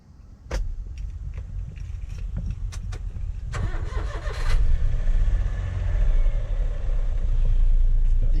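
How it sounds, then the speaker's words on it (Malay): A car engine cranks and starts after a sharp door or key sound, then settles into a steady low idle rumble that grows slightly louder, close by and with no talking. "Running kereta dulu."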